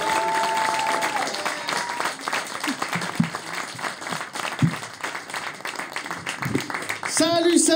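Studio audience applauding comedian Hugo Levent on a radio show, steady moderate clapping throughout with voices talking over it and a brief jingle-like burst near the end.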